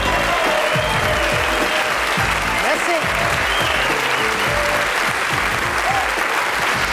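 A studio audience at a satirical late-night show applauds steadily and loudly for several seconds, with a host's voice and a few whistles faintly over the clapping.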